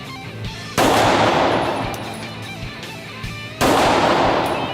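A 17-round pistol fires two loud, sharp shots about three seconds apart outdoors, each followed by a long rumbling tail.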